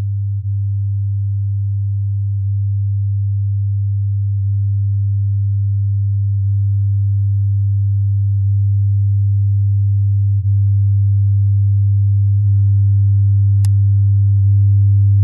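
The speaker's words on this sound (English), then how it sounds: "I can increase the drive and the harmonics will become very clearly audible." A steady 100 Hz sine tone passes through the SSL X-Saturator plug-in, a continuous low hum with added harmonics that grows slowly louder and has no voices over it.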